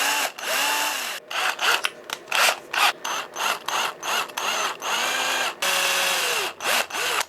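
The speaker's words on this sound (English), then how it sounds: "I'm going to drill a pilot hole first." A power drill bores a pilot hole into a wooden topwater frog lure, its motor whining loudly in repeated bursts that stop and restart, with rising and falling pitch as the bit spins up and down.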